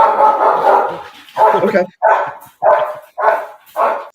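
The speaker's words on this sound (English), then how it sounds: "My wife's home, so my dog's about to act up." A household dog barks repeatedly at home, a string of about five sharp, fairly close barks in a steady rhythm, following and partly overlapping a man's speech.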